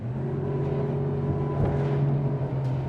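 An SPX RIB 24 speedboat's racing engine at speed gives a loud, steady harmonic drone that rises slightly partway through, with rushing water and wind noise mixed in.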